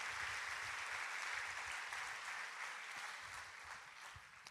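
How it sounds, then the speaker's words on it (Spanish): A church congregation applauding, a dense, steady roar of many hands clapping at once, fairly distant and sustained throughout without letting up. "Si va a aplaudir al Señor, hágalo con toda su fuerza"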